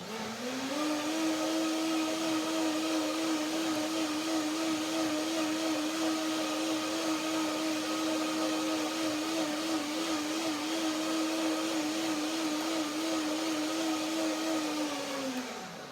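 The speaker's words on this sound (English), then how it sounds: "So one more blender dance for my date mousse." A blender whirs steadily for about sixteen seconds while blending a date mousse with cinnamon and lemon, its loud motor tone holding constant and then winding down at the end.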